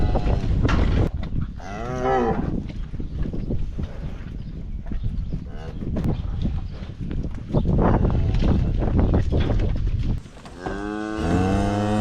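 Cows and calves moo repeatedly on a farm while being loaded, with loud, drawn-out calls rising and falling near and far amid livestock movement and hoof clatter.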